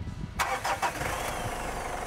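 A Mitsubishi Strada Triton with the 4D56 diesel engine cranks and catches, then settles into a steady, smooth idle. The engine is close and clearly heard, with no talk over it.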